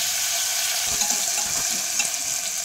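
Chopped onion, capsicum, garlic and ginger with whole cumin frying in a pan for pav bhaji: a continuous near sizzle with a few light clinks of stirring, no talk.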